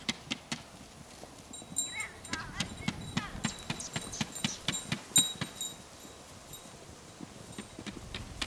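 Hooves of heavy draft horses and foals clip-clop in an irregular, overlapping patter on firm ground, moderately close, with people talking in Romanian over them.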